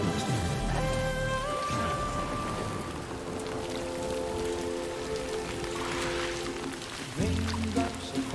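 Rain falling in the video game Death Stranding 2, a steady hiss of rainfall on surfaces running continuously beneath sustained musical tones from the game soundtrack.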